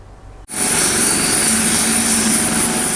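A Basarnas search-and-rescue helicopter flying over the coastal waters of South Lampung, starting abruptly after a brief quiet moment and then holding a loud, steady, close rotor and engine roar.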